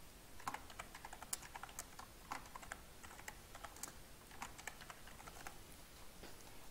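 Quiet, rapid computer keyboard typing entering a gallery title, a faint irregular stream of light key clicks with short pauses throughout.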